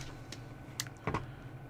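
A few scattered computer keyboard key presses, quiet close clicks in small irregular clusters over a low steady hum.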